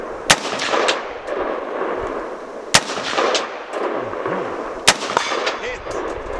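Three loud, sharp rifle shots from a scoped Colt M16A1, evenly spaced about two seconds apart, with ringing echoes between them on an outdoor range.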